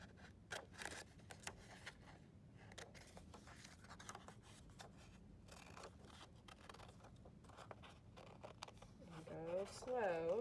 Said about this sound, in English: this little mohawk is a place where I would snip using just the tip of my scissors.